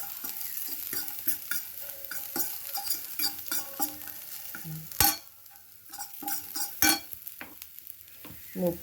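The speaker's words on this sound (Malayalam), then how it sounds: "അതിനകത്തേക്ക് ഇട്ട് നന്നായിട്ട് ഇളക്കി ഇതൊന്ന് ജസ്റ്റ് ഒന്ന് മൂപ്പിക്കുക" Broccoli masala being stirred and fried in a pan, with a steady sizzle under repeated scraping strokes of a spoon, close and fairly loud throughout, a few sharper knocks against the pan.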